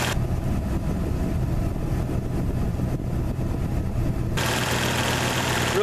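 A 1986 Ford F-150 engine with a small cam idles steadily and fairly smoothly up close, its low rumble constant throughout, while the air conditioning blower adds a hiss that swells louder near the end.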